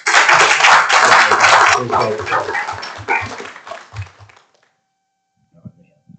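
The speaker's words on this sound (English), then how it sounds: "Let's give them a round of applause." Council meeting attendees applaud public safety staff with a loud burst of clapping that thins out and stops after about four seconds, with a dog barking underneath and a faint sound near the end.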